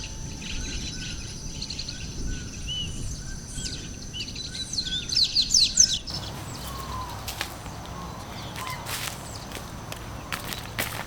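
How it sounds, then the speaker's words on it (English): Scattered high chirps and short calls of Hawaiian native birds in an open outdoor setting in Oahu's upper Manoa Valley, with a brief burst of busy twittering and some rustling footsteps nearby. "The area abounds with Hawaiian indigenous birds"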